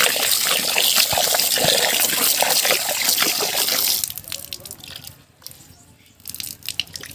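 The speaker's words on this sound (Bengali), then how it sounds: "সেই জন্য চাল কুমড়ো কুড়িয়ে নিয়ে ভালো করে ধুতে হয়।" Pieces of ash gourd are washed by hand in water, with steady splashing and dripping up close for about four seconds, then softer intermittent trickles and drips.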